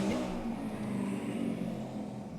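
A motorcycle revving sound effect: a loud, steady engine roar that holds for a couple of seconds, with no voices over it.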